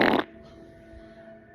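A woman lets out one loud, short fart at the very start, a harsh raspy blast lasting a split second before it cuts off into quiet room tone.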